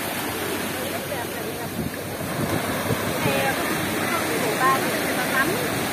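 Sea waves at the beach: a steady, loud wash of surf mixed with wind noise on the microphone, continuous throughout, with people talking over it.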